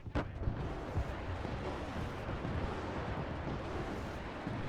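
A line barrage of artillery in the video game Broken Arrow rumbles as a dense, continuous wash of distant blasts. One sharper burst comes near the start, then overlapping booms roll on with no speech.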